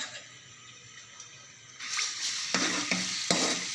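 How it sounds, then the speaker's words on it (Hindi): Ginger sizzles in hot ghee and oil in a pan, starting as a faint background hiss and swelling to louder frying about halfway through, with a few sharp stirring clinks near the end. "इसमें ये अदरक मैंने डाला, इसको हल्का ब्राउन होने तक इसका वेट करेंगे हम"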